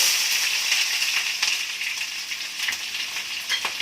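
Chopped onion pieces frying in oil just after mustard seeds have spluttered, for a tomato curry; a loud, continuous close sizzle with scattered crackles and pops, no voices.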